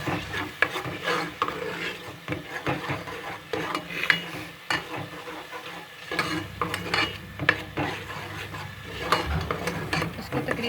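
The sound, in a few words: ginger and garlic paste frying with onions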